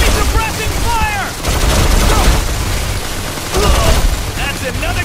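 Gunfire in the video game Modern Combat 4: Zero Hour, loud sustained bursts of automatic fire with heavy booms, mixed with shouted squad callouts and game effects throughout.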